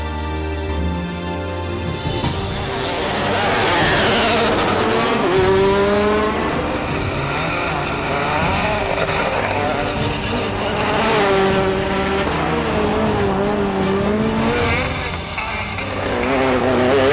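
Rally race cars at a rally in East Flanders, Belgium, accelerate hard, with engines revving through rising gear changes and some tire squeal. The sound is loud, continuous and close, and music or commentary may sit underneath.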